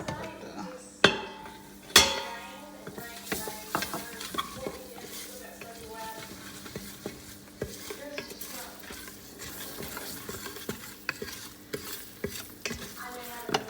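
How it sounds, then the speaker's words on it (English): Meat for Jamaican curry goat sautés in an Instant Pot, with a soft sizzle under repeated stirring scrapes and clinks of a utensil against the pot, including two sharp knocks near the start; no voices. "So I'm going to saute this."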